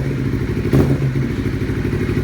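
A Honda CBR250RR with an R9 Austin full carbon titanium exhaust idles with a deep, throbbing rumble close by, briefly blipping the throttle in one sharp rev before settling back.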